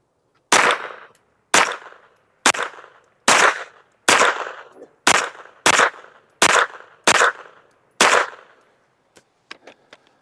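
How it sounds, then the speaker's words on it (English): A rifle topped with a Gideon Optics Advocate scope fires a string of loud, sharp shots at steady intervals of roughly a second, each with a short ringing tail, followed by a couple of fainter clicks, with no talking. "let's shoot another 10-shot group at that middle right target"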